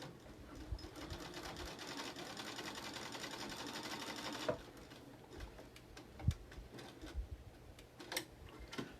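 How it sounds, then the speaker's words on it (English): A sewing machine stitches a line across a fabric mask with ties, running in a steady, close mechanical whir for about four seconds and then stopping. A few light ticks and taps follow in a quiet room. "I'm going to sew a triangular line across right here"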